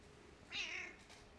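A cat gives one short, faint meow, close by, against a quiet room background with no talking.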